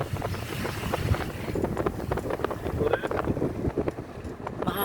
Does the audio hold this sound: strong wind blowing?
yes